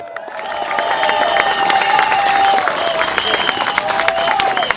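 A dense crowd claps steadily and loudly at a PSP election rally for the Kebun Baru and Marymount SMC candidates, with cheers and shrill whistles rising above the applause for the whole stretch.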